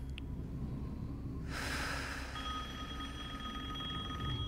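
A telephone ringing in the video game Resident Evil Village, a single bright electronic ring bursting in after a quiet start and sustaining as a tone over low game ambience.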